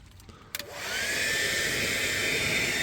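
A heat gun blows steadily on window tint film on an Audi TT to soften it for peeling; after a couple of brief knocks, the hot-air roar rises and holds loud and continuous.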